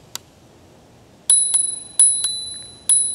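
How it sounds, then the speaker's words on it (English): Small handlebar bell on a Megawheels A6L ECO electric scooter rings in short bright dings, a faint tick first, then a few quick rings in irregular bursts, each decaying briefly, close and alone without talk. "You got a little bell."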